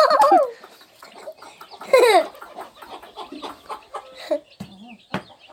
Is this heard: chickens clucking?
yes